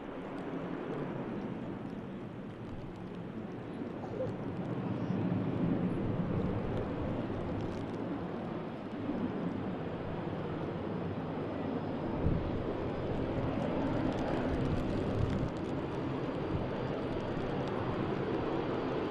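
An airliner landing and taxiing past at Manchester Airport gives a steady, moderately distant roar that swells slightly, mixed with gusty wind buffeting the microphone.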